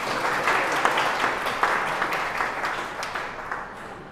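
Applause from an audience gathered at a morning camp event in an ashram, lively at first with sharp individual claps poking through, then gradually thinning and fading toward the end.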